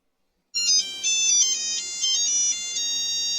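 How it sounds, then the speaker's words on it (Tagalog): A phone ringtone starts after a short silence and plays a bright, repeating electronic melody at steady volume, with no talking over it. "Ringtone pa lang, nakakaduda na eh."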